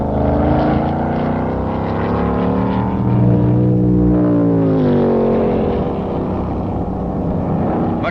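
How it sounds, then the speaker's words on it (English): A McLaren race car with a Chevy engine at full throttle during the 1967 Pan Am Players 200 at Mosport, a loud sustained engine roar with rising and falling pitch as it passes close by, heard alone. "McLaren, with his Chevy engine full bore,"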